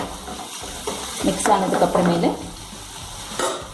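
A spoon stirs fried chicken gravy in a pan, with a short burst of scraping and sizzling in the middle over a low kitchen background.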